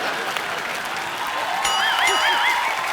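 Loud, sustained applause from a studio audience at The Kapil Sharma Show welcomes the star cast, with music rising and a voice heard over the clapping in the latter part.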